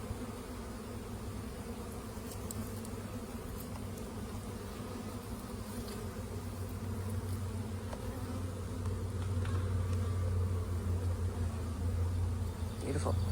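Honey bees buzz around open brood frames of a hive on a spring day, a dense, low droning hum that swells slightly louder toward the end, with a faint voice now and then underneath.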